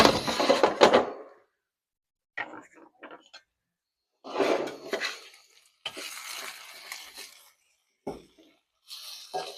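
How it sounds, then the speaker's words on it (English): Potatoes stirred in a pan inside a wood-fired pizza oven, bursts of scraping and clinking metal with sizzling, separated by silent gaps. "let's go over and give the potatoes a little stir"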